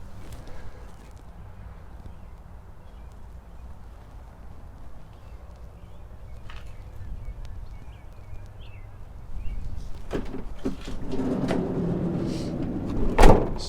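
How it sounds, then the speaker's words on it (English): Side doors of a 2020 Mercedes-Benz Sprinter 2500 High Roof van are worked, several sharp latch clunks and a sliding rumble near the end after a quiet stretch of idle background hum. "Side doors open and close"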